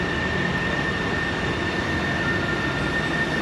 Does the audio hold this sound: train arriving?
yes